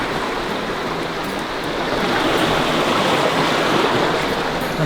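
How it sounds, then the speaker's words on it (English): River water rushes steadily beneath a suspension bridge, a loud, continuous broadband roar with no breaks. "I like that water sound though"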